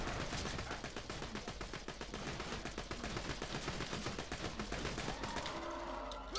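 Rapid, steady gunfire in Borderlands 2 pours out shot after shot in a continuous automatic stream for several seconds, loud and close, then eases off right at the end.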